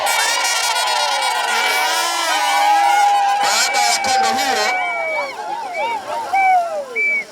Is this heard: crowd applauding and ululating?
yes